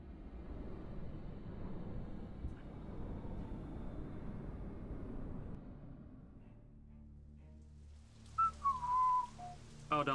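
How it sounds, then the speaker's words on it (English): A person whistles a short tune near the end in Hand of Fate 2, several clear bright notes following a stretch of low rumbling background noise. "Oh, don't whistle."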